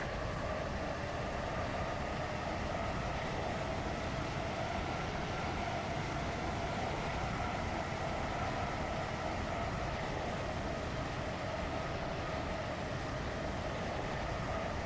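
A Stepford Connect train in a video game rolls along toward Lynn by the Sea, giving a steady, even rumble of running noise with a constant hum, alone and unbroken throughout.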